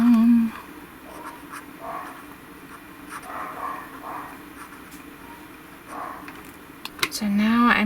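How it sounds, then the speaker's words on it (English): Pen on paper in a planner gives soft, repeated scratching strokes close by, quiet and irregular, set between spoken passages at the start and end. "So I write that down."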